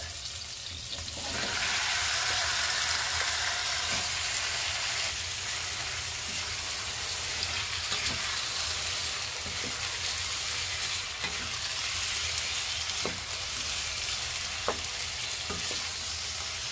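Pork for menudo sizzles loudly and continuously in a hot pan with tomatoes, a dense close hiss that swells just after the meat goes in, with occasional faint clicks of stirring.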